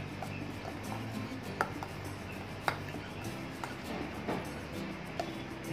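Corn chaat with black pepper, salt and lemon juice being stirred in a bowl gives soft, sparse taps and scrapes of a spoon, quiet and irregular over a low steady room hum.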